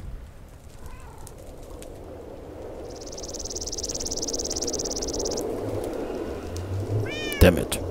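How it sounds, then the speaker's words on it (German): A cat meows inside a Minecraft world, a brief call near the end over a steady bed of ambient game noise with chirping creatures and a long high tone. "Katze!"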